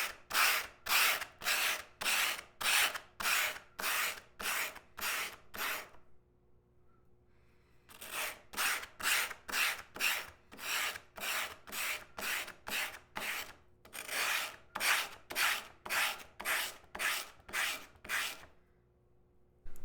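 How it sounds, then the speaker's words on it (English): A steel scrub plane iron is sanded by hand, held upright, in steady rhythmic strokes: two long runs of quick, evenly spaced rasping passes, close and alone, broken by a short pause. "just stand it straight up and sand down to those lines as accurately as possible"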